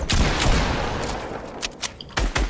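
Fortnite gunfire, a long dense burst of rapid shots up close, followed by a few separate sharp bangs after a short lull.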